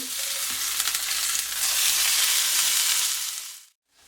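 A minced beef patty sizzles loudly in a hot pan, a dense, steady frying hiss that swells slightly and then cuts off abruptly near the end, close up with no voices.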